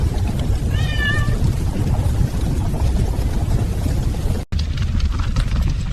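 A cat meows in short rising and falling cries early on, partly masked by a steady loud roar of fire and rushing noise in a burning house, with a brief dropout near the end.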